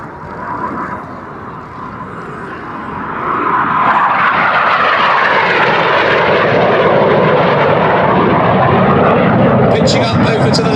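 Red Arrows jets flying the Cyclone manoeuvre, engine noise building from a distant rumble to a loud sustained roar as they pass, with a commentator talking throughout.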